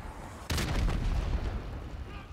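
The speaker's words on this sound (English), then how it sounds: "Oh my god, grenade." A grenade blows up in a Modern Warfare 2 campaign battle, one sudden loud blast with a low rumbling tail amid ongoing combat noise.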